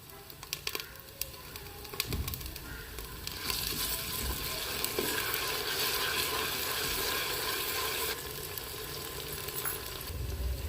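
Ginger, garlic and chillies hit hot oil in a pan for arvi masala, with a few clicks first, then a loud, steady sizzle that swells and holds for several seconds before easing slightly.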